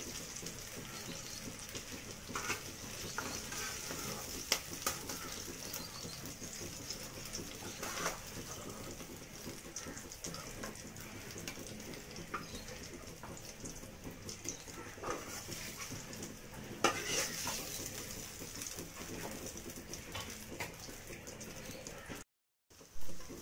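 Dhoka lentil cakes fry in a pan with a steady, hissing sizzle that stays even and moderately faint throughout, broken by a few light clicks and taps.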